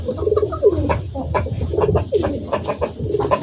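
Pigeons coo repeatedly at close range, their low rolling calls overlapping in a steady rhythm, with other birds faintly audible in the background.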